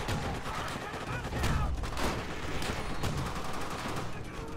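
A BAR rifle firing in Call of Duty: World at War, rapid heavy bursts of automatic fire rattling continuously with a few stronger shots, fairly loud amid battle noise and a faint voice.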